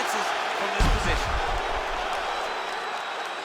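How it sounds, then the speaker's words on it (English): Arena crowd in the EA Sports UFC 4 mixed martial arts fight game roars steadily after a round, with one dull thud early on and the cheering holding at an even level throughout. "So the crowd voicing its appreciation after that round."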